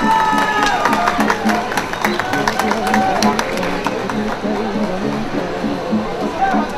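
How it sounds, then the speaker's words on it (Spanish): An outdoor festival crowd at a Jumil Day celebration on a hillside in Taxco applauds the second-place winner, with loud, continuous clapping and cheering, scattered whistles and crowd voices mixed in. "Un fuerte aplauso, por favor."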